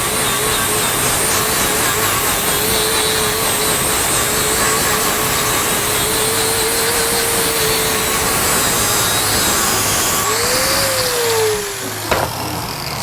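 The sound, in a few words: power saw blade cutting metal rod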